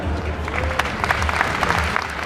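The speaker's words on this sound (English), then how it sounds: "A smashing with applause." Scattered applause from a live audience at a gadget show stage at the NEC Birmingham, moderate in volume with a few distinct claps standing out over a low background hum.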